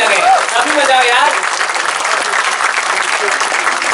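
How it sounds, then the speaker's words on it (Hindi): Sustained audience applause fills a comedy show hall, dense and steady throughout the clip with crowd noise mixed in. "तालियां बजाओ यार ऐसे, ताकि बाहर वालों को भी लगे। अभी बजाओ यार।"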